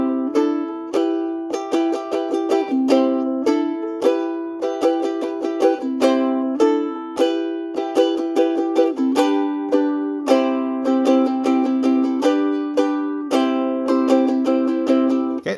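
Ukulele strummed in a steady rhythmic pattern, bright chords repeating with crisp down-up strokes and changing chords, close and clear, played solo without voice.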